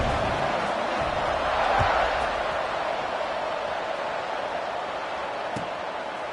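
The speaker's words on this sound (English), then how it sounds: "this crowd is buzzing after that last score" Stadium crowd noise from the College Football 26 video game during a Tulsa versus App State matchup, a steady, dense roar that swells briefly and stays fairly loud throughout, with a couple of faint thuds underneath.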